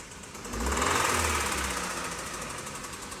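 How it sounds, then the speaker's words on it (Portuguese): A Hyundai Tucson engine with a bad knock runs at idle. It makes a rapid, harsh metallic clatter with a steady rhythm, close and loud, swelling briefly before settling, and no voices are heard. "Motor batendo bastante."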